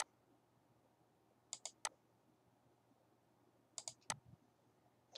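Computer mouse clicks select lines in CAD software, two quick bursts of two or three crisp close clicks each, separated by a quiet pause.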